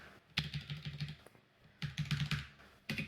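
Typing a command into a command prompt on a computer keyboard, with close, crisp keystrokes in two quick bursts separated by a pause and a final tap.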